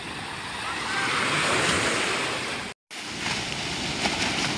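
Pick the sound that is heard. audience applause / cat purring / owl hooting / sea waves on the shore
sea waves on the shore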